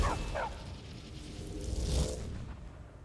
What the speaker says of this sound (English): there is our trusty dog